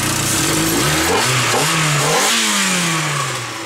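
Ford Sigma engine running after a conversion, with a failing coil pack: loud, close revving that climbs and falls in several sweeps, then settles toward a steady run.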